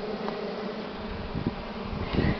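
Honeybees buzz at an open hive during a nest expansion, a dense, continuous close-up drone with a few louder passes as individual bees fly near.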